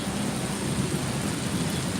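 Heavy rain pours down in Hyderabad in a dense, continuous roar with a low rumble beneath, steady throughout and with no voices.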